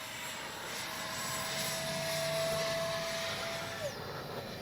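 A Freewing 70mm F-35 radio-controlled jet makes a touch-and-go pass, its electric ducted fan giving a steady, moderately distant whine and rush that holds through the pass and drops in pitch near the end.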